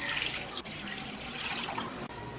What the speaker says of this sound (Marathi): मी गॅसवर आहे ना कढई ठेवली,